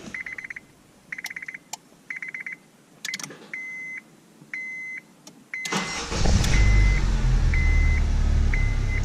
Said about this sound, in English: see if the remote start activates and runs.